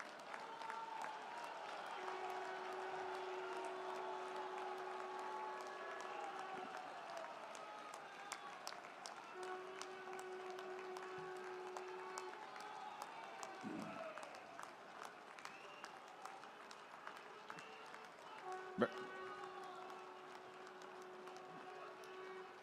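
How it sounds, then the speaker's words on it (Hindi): Sustained standing applause from a large crowd at an infrastructure inauguration in Lucknow, dense continuous clapping that carries on for many seconds, with a faint tone and occasional voices underneath. "मुख्यमंत्री श्रीमान योगी आदित्यनाथ जी का अपने स्थान पर खड़े होकर और 1 मिनट तक तालियां बजाकर उनका अभिनंदन करें।"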